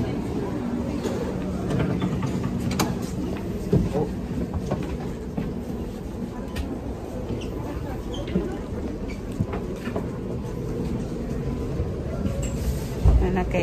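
Steady low rumble and rattling inside a moving train in Hamburg, Germany, with faint clicks and background chatter throughout.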